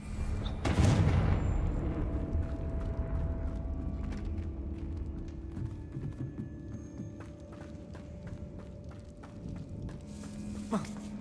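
A Confringo fire spell goes off in Hogwarts Legacy with a sharp, loud explosive crack near the start, followed by a decaying rumble and scattered mechanical clicks and creaks, with another bright burst near the end.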